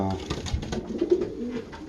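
Racing pigeons coo softly inside a loft, low throaty calls repeating close by for a couple of seconds.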